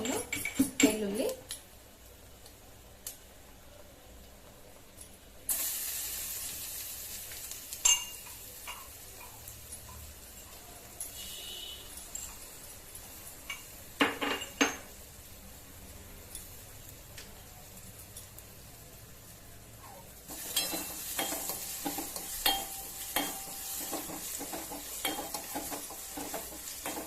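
Crushed peppercorns and garlic frying in a pan with chili, a close sizzle that swells loud in bursts, with scattered clinks and scrapes of stirring between quieter stretches.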